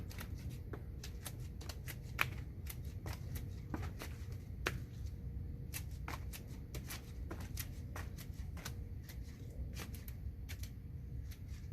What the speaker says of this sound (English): I'm just going to cut this off right here. And then I'm going to cut all the leaves off.